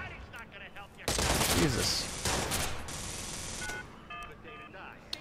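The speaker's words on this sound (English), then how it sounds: "I'm shooting the guy." Bursts of gunfire from the Watch_Dogs video game, a dense loud volley running for several seconds with a voice exclaiming briefly over it.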